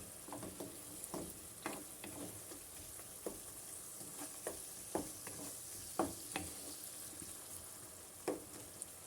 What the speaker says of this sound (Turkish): Spatula ile biraz eziyoruz onları.